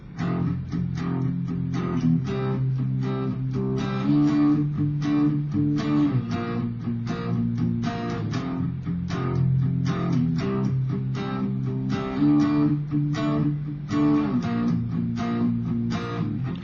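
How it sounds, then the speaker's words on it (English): Distorted electric guitar power chords strummed in a steady rhythm, thick and full with a higher octave ringing on top, played alone with no talking. "we're going to play power chords, but we're also going to have the octave on top of it"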